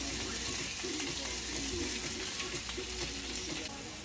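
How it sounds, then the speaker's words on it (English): Ground beef fries in a pan while being stirred now and then, a steady low crackling sizzle with soft scraping, continuous and moderately quiet, with no clear talking. "we are going to occasionally stir and mix until the beef has lost its pink color and it's starting to brown"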